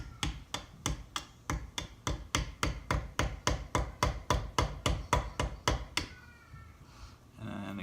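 A file handle pounds a jigsaw blade down into place in a homemade massager, about twenty sharp, evenly spaced knocks in quick succession, close and distinct, ending with a brief scraping sound.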